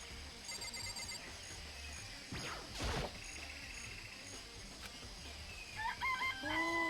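Chickens and a rooster in the Danganronpa video game cluck and crow over a steady background tone, with a few synthetic game blips near the end.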